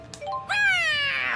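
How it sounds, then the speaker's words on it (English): A cat in the video game Tales of Xillia 2, in the Land of Canaan dungeon, gives one long rising-then-falling meow, clear and close, after a faint short jingle. "There's another cat here"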